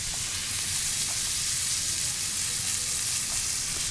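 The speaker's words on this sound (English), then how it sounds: "Take some butter. Get it into the pan, a couple cloves of garlic," Butter and smashed garlic cloves sizzle steadily in a hot pan, a constant bright frying hiss with no voices over it.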